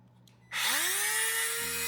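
A Dremel rotary tool starts up in a tight space on a CanAm Outlander, its whine rising quickly to a loud, steady high-pitched scream that carries on, close by.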